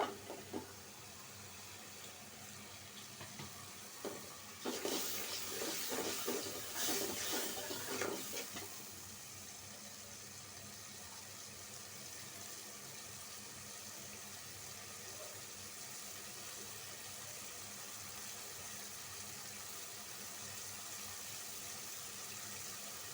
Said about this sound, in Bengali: ধন্যার গুঁড়া মশলাটা আমি ভালো করে একটু কষায় নেব